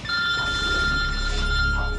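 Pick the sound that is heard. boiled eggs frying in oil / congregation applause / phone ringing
phone ringing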